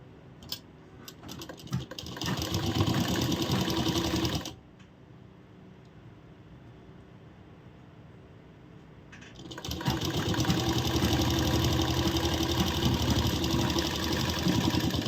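A sewing machine stitches a blouse in two loud, fast whirring runs with rapid needle chatter, separated by a quieter pause of several seconds.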